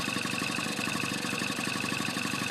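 A Honda Express NC50 moped with a swapped engine idles steadily up close, giving a continuous even putter with no speech.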